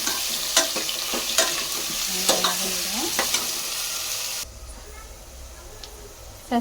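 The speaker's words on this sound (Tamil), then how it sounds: "வெங்காயம் வதக்கலாம்." Onions sauté in a hot pan with a steady sizzle, punctuated by repeated spoon scrapes and stirring clanks; the frying becomes quieter and duller partway through, and a voice speaks briefly.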